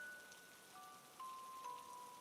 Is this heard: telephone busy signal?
no